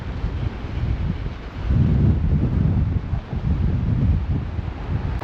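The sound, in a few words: wind blowing at a harbour beach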